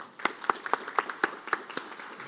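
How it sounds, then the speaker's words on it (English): Sparse, scattered hand claps from a small audience at a police academy graduation ceremony, honoring a chaplain; a dozen or so distinct claps spread over a couple of seconds, fairly quiet and thin. "Please give Chaplain Maxwell a round of applause."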